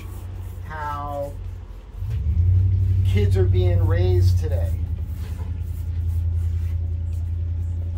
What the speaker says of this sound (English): I got these guys out here in a truck that are screwing up my video.